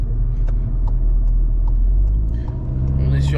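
Volkswagen 2.0 litre TSI 230 Performance phase 1 car in normal drive mode accelerating, a steady loud low engine rumble with rising harmonics and a brief higher whoosh near the end, no talk over it.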